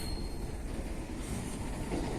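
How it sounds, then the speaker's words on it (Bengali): Passenger train pulling out of Radhikapur station near the India–Bangladesh border, giving a steady broadband rumble of rolling wagons and wheels throughout, fairly close and even in loudness with no voices. "তো অবশেষে ট্রেনটি ছেড়ে দিল"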